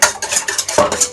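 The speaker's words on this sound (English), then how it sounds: "Throw the eggs and mix it" Four eggs being stirred into mawa cake batter with elaichi powder, a brisk, close, rhythmic scraping and tapping of a utensil against a bowl, repeating about five times.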